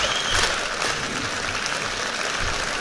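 A concert hall audience applauds football players who won a championship, a steady, full burst of clapping from many hands filling the room, with no talk over it.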